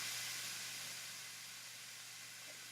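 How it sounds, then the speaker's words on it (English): Burger patties sizzle in a hot pan in a home kitchen, a steady, soft broadband hiss that fades slightly over a few seconds, with no voices. "set it on down, and it'll make a nice sizzle like that"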